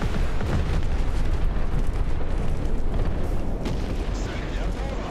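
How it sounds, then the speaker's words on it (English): Artillery explosions in War Thunder ground forces combat, a dense, continuous rumble of booms and blasts that stays loud throughout with no clear gaps between impacts. "we just killed a T-34 with artillery"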